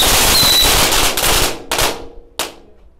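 Paper-wrapped firecrackers burst in a rapid crackling string, then two separate loud bangs as the chain dies out, close and sharp with no voices.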